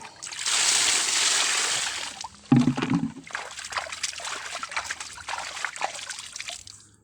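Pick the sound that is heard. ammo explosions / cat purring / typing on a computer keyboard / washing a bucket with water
washing a bucket with water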